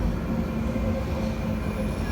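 London Underground Bakerloo line train pulling fast into a platform, a steady loud rumble of wheels and motors with faint squeal, continuous throughout with no talking.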